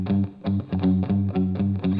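Guitar reamped through a Line 6 Helix, playing a heavily distorted, processed tone with rhythmic chugging chords repeating in short bursts, loud and close with no talking.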